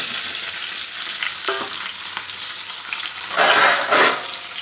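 Chopped bottle gourd and potato pour into a pot of hot, sizzling lentils. A steady frying hiss swells into two loud, close bursts of spitting sizzle as the vegetables hit.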